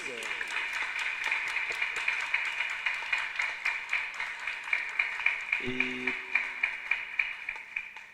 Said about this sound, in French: On applaudit pour cette joueuse.